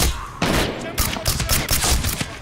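Handgun shots fired in Medal of Honor: Warfighter, a string of sharp, loud reports at irregular intervals over dense combat noise and other gunfire.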